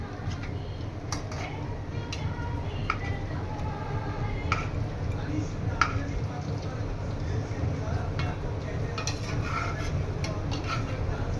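Chicken frying in hot oil is turned over, with utensil scrapes and clinks against the pan over a steady low sizzle; a voice speaks at times.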